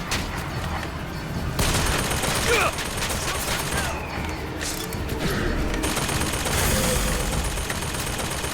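Gunfire in the video game Bioshock Infinite, played in VR, dense rattling bursts and scattered shots over a busy battle din, with voices talking and shouting throughout.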